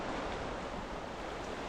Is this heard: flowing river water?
yes